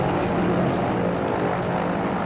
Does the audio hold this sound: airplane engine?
yes